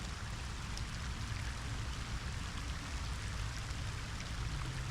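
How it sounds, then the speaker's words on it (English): Steady rain falls in a continuous broadband hiss, even and unbroken throughout, with no voices. "it's starting to rain pretty good"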